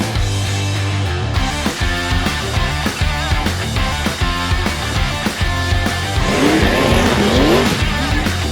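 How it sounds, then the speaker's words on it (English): A 1946 Willys CJ2A Jeep with a 134 cubic inch L-head four-cylinder drives along, its engine droning steadily up close with rhythmic surges and a rising whine as it picks up speed. "We'll show you how well this Jeep runs and drives."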